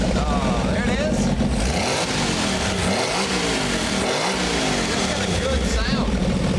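Restored mail Jeep engine running just after its first start, a loud steady motor sound with revving swells throughout, alone without talk.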